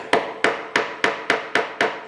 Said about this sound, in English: hobby hammer, I can nail them in